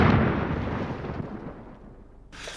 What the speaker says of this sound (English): it's a gun or cannon.